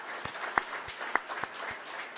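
Applause from an audience at a hotel industry forum in Belgrade, loose scattered claps with a few sharper louder hits, moderately close, without voices.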